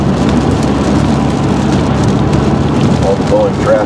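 Heavy rain falls steadily in a wet outdoor setting near traffic, a loud continuous hiss of drops with a low rumble underneath and no break throughout.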